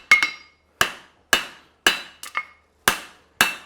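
A hammer rings sharply on a hot horseshoe at the anvil while a hind preventer shoe with heel cork is forged, giving seven crisp metallic blows in a fairly even rhythm, close and loud, with a quick double strike midway.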